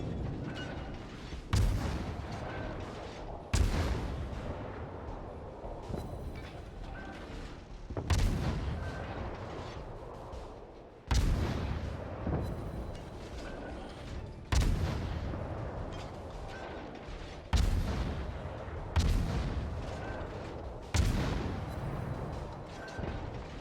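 Warship main guns firing high-explosive shells in World of Warships, heavy booming salvos repeating roughly every three seconds, each followed by a long rumbling tail, loud and alone without talk.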